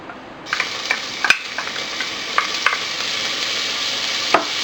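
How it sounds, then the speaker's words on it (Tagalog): Garlic hits hot cooking oil in a pot and bursts into a bright, steady sizzle, with a few sharp clinks and scrapes of stirring scattered over it. "Once na mainit na yung oil, ilalagay na natin dito yung garlic."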